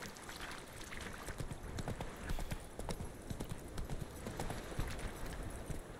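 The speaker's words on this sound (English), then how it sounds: "There's a horse wandering across there, look." Horse hooves clip-clopping in The Witcher 3 as a horse wanders across a shallow river crossing, a steady soft clatter of hoofbeats over continuous ambient game noise, fairly faint.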